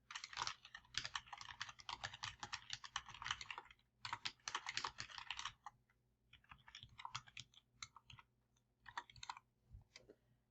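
Fast typing on a computer keyboard while entering a note in seller software, with dense bursts of key clicks broken by short pauses, close and fairly quiet, with no voices.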